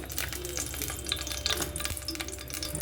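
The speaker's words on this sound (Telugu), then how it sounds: "కళాయి పెట్టి వేడైంది నూనె పోసాను ఎక్కువ లేదు కొంచెమే పోసాను" Salted dried fish frying in a small amount of oil in a hot kadai, a continuous close sizzle with soft scraping stirs and occasional spits, no voices.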